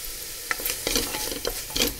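Khichdi masala sizzling in a pan while a spoon stirs it, with soft frying hiss under a handful of scraping, clinking stirs at an irregular pace, close and moderately quiet.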